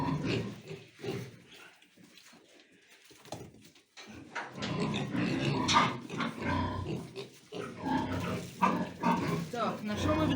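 A piglet grunts and squeals intermittently while being weighed on a farm scale, loud and close, mixed with overlapping talk and handling noise from several people.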